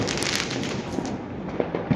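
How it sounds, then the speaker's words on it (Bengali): New Year fireworks and firecrackers burst all around, a dense continuous crackle and popping from several directions, at moderate distance and fairly loud. "চারদিকে বাজি ফাটছে"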